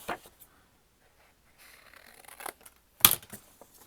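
Scissors snip through folded paper for journal pockets, a few soft rustles followed by one sharp, close cut, with brief quiet between.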